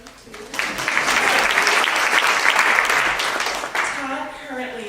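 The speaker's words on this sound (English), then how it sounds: "So if I clap for him too." An audience at a Key Club charity event honoring a champion of children claps steadily, a dense, sustained round of applause that fades near the end as a voice begins speaking.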